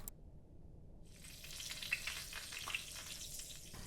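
Ghee frying in a pan in the cooking game Venba: a soft, steady sizzle that starts abruptly after a near-silent second and continues with faint crackles and stirring.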